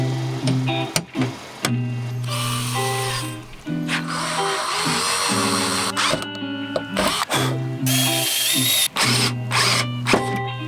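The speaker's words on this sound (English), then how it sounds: "next step is drill the holes and wish for the best" A power drill whines steadily at close range, drilling holes in a car spoiler on an AE92 Corolla, pitch dipping and stuttering as it bites into material, with brief pauses between bursts.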